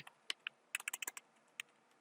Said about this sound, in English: I'm up here typing in my search terms in my search box up here